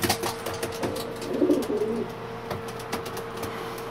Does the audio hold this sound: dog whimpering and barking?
no